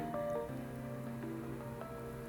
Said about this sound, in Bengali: তেলটা গরম হয়ে যাবার পর এর মধ্যে খুব অল্প পরিমাণে একটু কালো জিরে ফোড়ন দিয়ে দিলাম